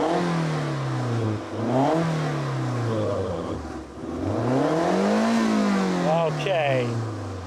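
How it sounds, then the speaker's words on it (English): A naturally aspirated inline-four in a Toyota MR2 revs up and down through several loud, rising and falling sweeps, close by, with some talk over it. "Steve, let's hear this MR2 sing"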